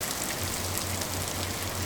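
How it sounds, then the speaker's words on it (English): Steady rain falls continuously, a soft even hiss of drops on a surface with a faint low hum underneath, no voices present. "It is raining today."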